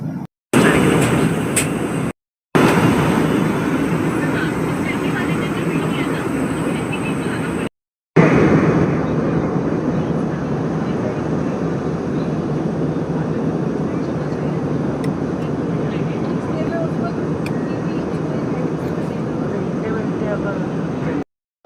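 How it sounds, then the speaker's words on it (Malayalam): Steady, loud airplane cabin drone as the flight descends to land at Coimbatore, a continuous low engine roar broken by a few abrupt cuts. "നമ്മളിപ്പോൾ ലാൻഡ് ചെയ്യാൻ വേണ്ടി തയ്യാറെടുക്കുകയാണ്"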